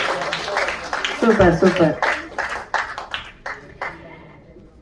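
Students in a university classroom break into brief, scattered clapping at a farewell function, the patter rising under an enthusiastic voice and then thinning out as the speaker carries on.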